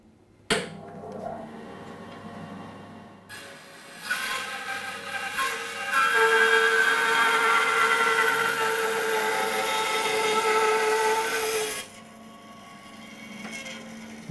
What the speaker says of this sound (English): we're just going to cross cut a bit of 3-inch oak